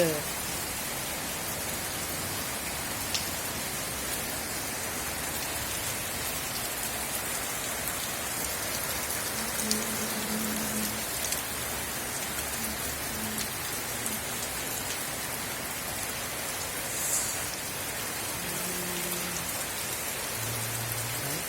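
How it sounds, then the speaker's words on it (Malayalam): Heavy summer rain in Kerala falls continuously, a broad unbroken wash of drops on surfaces, with faint voices in the background. "എന്ത് നല്ല മഴ നല്ല തണുപ്പ്"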